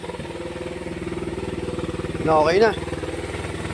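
A Suzuki Raider 150 motorcycle engine fitted with a 28mm carburetor runs steadily at idle nearby, with a brief rev swelling in the middle, while someone speaks over it.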